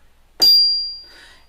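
High D struck once on percussion bells, one octave up: a bright metallic attack followed by a pure ringing tone that decays over about a second, heard alone and close.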